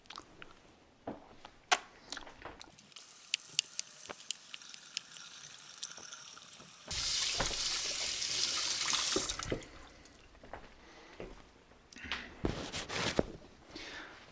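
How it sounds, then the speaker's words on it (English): Hands washed under a kitchen tap while baking peanut butter cookies: a few seconds of steady running water gush midway, framed by scattered clicks, taps and rubbing sounds, fairly close, with no voices. "you're going to go wash your hands"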